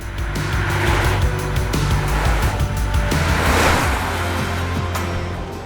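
A DS No.4 hybrid car is driven along flowing Peak District roads, heard from inside as a steady, loud rumble of engine and tyre noise that swells and eases gently as it moves.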